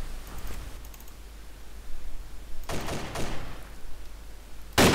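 Gunfire from another player in DayZ, a couple of distant bursts of shots, with a sharper, louder crack at the end, over a low background rumble and faint clicking.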